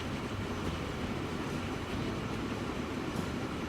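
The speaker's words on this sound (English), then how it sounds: "I like the double locomotives" Double-locomotive train running in the Transport Fever 2 game, a dense steady rumble and rolling roar with no breaks, loud and close throughout.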